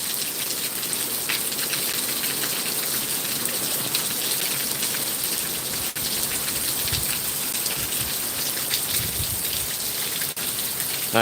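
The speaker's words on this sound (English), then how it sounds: "Lot of rain, man, that it's dumping down." Heavy rain from Hurricane Milton, a Category 3 storm, pours down steadily outdoors, a dense continuous hiss of drops drumming on surfaces with gusting water, loud and unbroken throughout.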